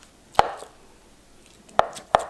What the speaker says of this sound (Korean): 그리고 김치와 함께 볶을 스팸을 썰겠습니다